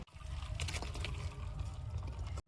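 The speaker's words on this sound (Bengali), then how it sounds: "জল সরিয়ে নেব।" Water being drained off boiled spinach, a steady close splashing pour that runs continuously and then stops abruptly.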